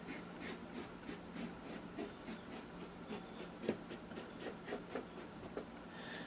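Pen or marker drawing a circle on a tee shirt with a string held tight as a guide, a soft rhythmic scratching of quick repeated strokes, close and quiet, with no talking.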